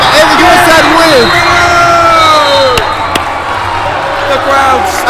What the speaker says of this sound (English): The crowd storms the court as USN wins the match.